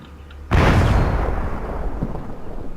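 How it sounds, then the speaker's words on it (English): Artillery strike called in from a vehicle in the Combat Mission Shock Force war game: one sudden, loud blast bursts out, then a long, heavy rumble that slowly fades. "Using my vehicle to call in artillery strikes."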